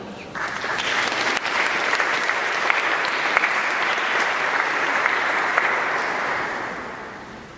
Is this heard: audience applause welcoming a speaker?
yes